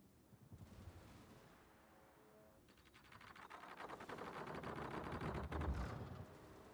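Warship guns fire in the World of Warships game during a competitive playoff match, a building rumble of rapid, overlapping shots swelling louder toward the end.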